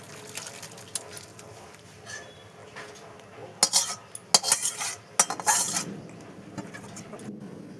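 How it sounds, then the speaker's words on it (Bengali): A utensil stirs prawns with pointed gourd in a cooking pot, giving a series of metallic scrapes and clanks that grow louder and more clustered toward the end. "মাছগুলো দিয়ে একটু নাড়াচাড়া করে নিচ্ছি।"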